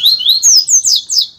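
A pet songbird sings a short, bright phrase of rising and falling whistled notes, close and clear, in several quick bursts with no talk over it.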